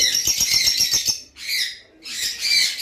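Pet lovebirds, a lutino Fischer's and a green bird, chirp in high, bright bursts, a rapid run of calls first, then two more sustained chattering spells after a short pause; close and fairly loud.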